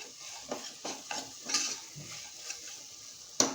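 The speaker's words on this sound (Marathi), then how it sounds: "मसाला चांगला आपण मिनिटभर परतून घ्यायचा" Masala sautéing in a pan for a bottle gourd and chana dal sabji, a quiet sizzle broken by repeated spatula scrapes and stirs at a steady pace, ending with a sharp metallic clink, no talking.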